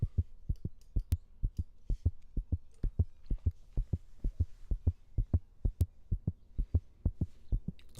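A deep, steady synthesized pulse thumps in a heartbeat-like double rhythm, repeating evenly throughout with a low humming tone underneath.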